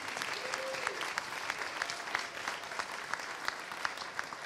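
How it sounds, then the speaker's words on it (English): A room full of people claps at a community center grand opening, a steady, moderately distant round of applause with sharper individual claps standing out, lasting several seconds. "can I just get a round of applause for all those people that helped put this together today?"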